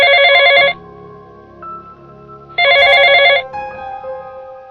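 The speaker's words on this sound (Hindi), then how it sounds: "उसके फोन पर एक नोटिफिकेशन आया।" A phone gives off two bursts of a bright, trilling ringtone close by, with a short gap between them and a soft electronic tone lingering underneath.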